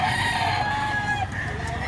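Chickens cluck and a rooster crows at a poultry market in Lipa, Batangas, the calls rising over a steady crowded background din, fairly loud and continuous.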